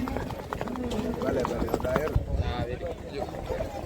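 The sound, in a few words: horse hooves clip-clopping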